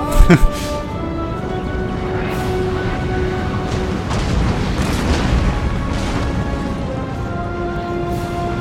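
Enemy cannon fire in Total War: Napoleon, a loud booming shot right at the start, followed by a rumbling battlefield bed with talk running over it.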